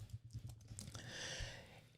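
Keys clacking on a computer keyboard as a location is typed into a real estate search field, a short burst of close, fairly quiet taps running together over a soft background hum.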